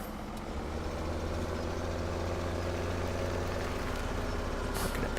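Steady, low engine drone of a tractor driving in the Farming Simulator 17 video game, loud and continuous throughout with a constant rumbling hum and no talk.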